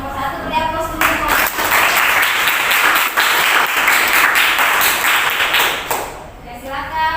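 Sustained applause from a classroom of teacher-training students fills about five seconds, rising quickly and holding steady before tapering off near the end.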